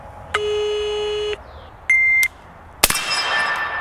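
Electronic shot timer beeps for a draw-to-fire drill at a steel gong target: two clean, loud tones, the first longer, then a sharp gunshot crack from a 14.5-inch forged PSA Sabre rifle ringing out.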